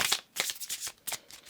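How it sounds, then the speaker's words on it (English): Tarot cards being shuffled by hand make quick, soft papery riffles, a few close bursts in a row, alone and fairly quiet. "I felt like we need to do a good shuffle."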